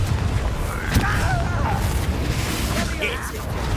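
Confringo fire spell blast in Hogwarts Legacy combat: a burst and booming impact with crackling energy, heard amid continuous battle noise while a player calls out spells.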